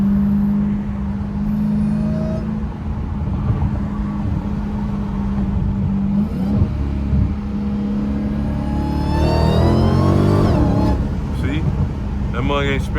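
A Dodge Hellcat on Nitto tires rumbles loudly at close range, its engine note rising into a strong acceleration surge toward the end, with someone talking over it.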